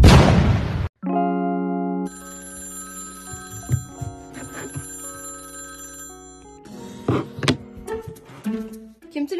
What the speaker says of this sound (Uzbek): telefon qilyapti ishxonadan oling trubkani